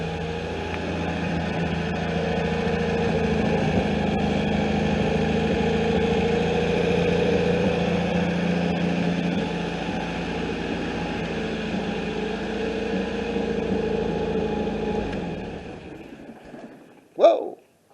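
A 1974 MGB GT engine idles steadily and close by for about fifteen seconds, a low even hum with a faint hiss, before cutting out, followed by a brief sharp knock near the end.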